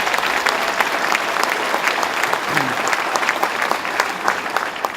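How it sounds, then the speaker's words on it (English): A large crowd applauds steadily at an awards ceremony, a dense, even patter of clapping that holds throughout without letting up. "Let's give them a round of applause for their great work."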